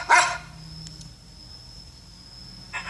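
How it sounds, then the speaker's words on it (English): A dog gives a short, loud bark at the start, then there is quiet with a faint steady high tone, and another bark begins right at the end. "Dog."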